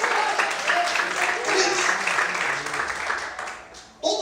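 A church congregation claps, dense steady applause filling the room for several seconds and fading toward the end, while a voice speaks briefly over it.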